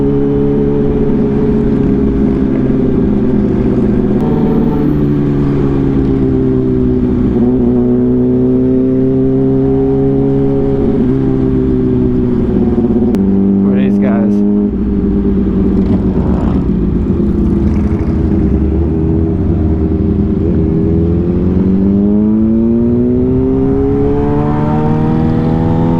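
A loud Harley-Davidson motorcycle engine rumbles close by for the whole stretch, with the throttle rising and falling in pitch as it rides along and revs.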